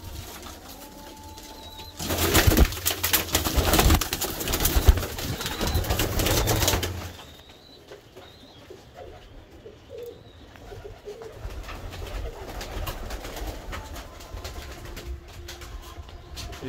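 Pigeons in a breeder loft coo at close range, with a louder burst of wing flapping and bustle in the middle, then softer cooing over low background noise.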